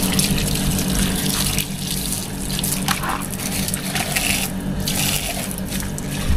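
Water runs steadily from a tap at a beach bungalow near the sea where guests wash their feet, a close, continuous splashing with no talk.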